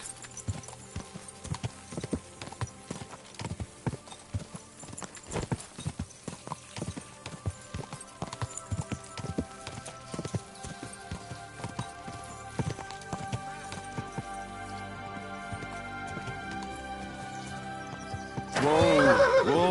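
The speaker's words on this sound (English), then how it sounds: "What a beautiful horse." A horse in the Kingdom Come Deliverance 2 video game gallops with rapid, close hoofbeats, then lets out a loud neigh near the end.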